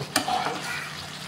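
Pork pigado being stirred in a frying pan, a spoon scraping through the hot sizzling meat with one sharp clink near the start, close and steady.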